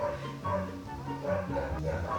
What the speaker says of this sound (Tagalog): Ang ingay naman ng mga aso.